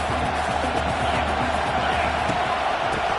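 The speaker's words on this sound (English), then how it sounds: "This crowd knows when to bring it." Stadium crowd in the College Football 26 video game roars as a steady, dense wall of cheering and noise, loud and continuous throughout.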